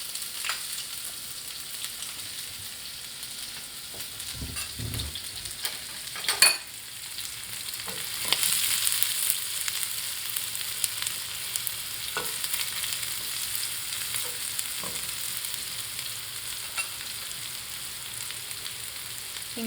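Thinly sliced shallots frying in hot oil in a pan for a quail egg roast, giving a steady broadband sizzle with a few louder spits and pops near the start, then continuing evenly throughout without voices.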